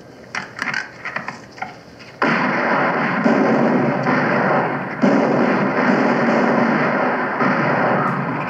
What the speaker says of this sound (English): Fire one round.